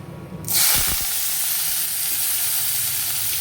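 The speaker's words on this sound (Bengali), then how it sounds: "তেল গরম হয়ে গেছে এবার আলুটা ছেড়ে দিই" Potatoes slide into hot oil and set off a sudden loud, steady sizzle that starts about half a second in and holds strong to the end, with a few soft clatters as they land.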